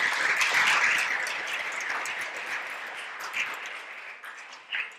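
A church congregation at a harvest service applauds in a broad, sustained wash of many hands clapping, loudest at first and slowly tapering with a few isolated claps near the end.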